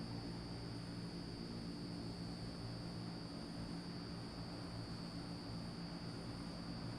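Engines of a C-160 transport aircraft drone in a flight simulator game, a constant steady hum with a high whine on top, unchanging throughout with no voices.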